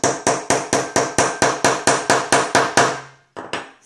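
A hammer strikes a Prym snap fastener through fabric, about twelve sharp, evenly spaced blows in quick succession, then a short pause and two final hits.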